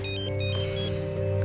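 A telephone rings indoors with a steady electronic ringtone, a sustained tonal melody that plays at moderate loudness with no talk over it.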